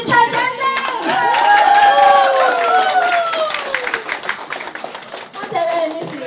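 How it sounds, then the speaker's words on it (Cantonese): A party crowd claps and cheers after thanks to a guest, loud continuous applause mixed with excited voices and shouts filling the room before tapering off. "全場掌聲"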